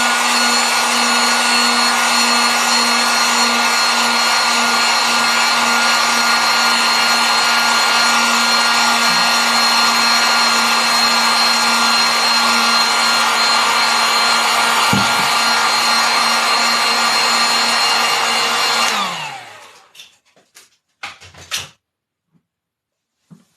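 A handheld dryer blasts air over wet paint on the back of a Canson XL notebook page, a loud steady whirring hum with a faint tonal whine that runs for about nineteen seconds, then cuts off, followed by a few brief clatters.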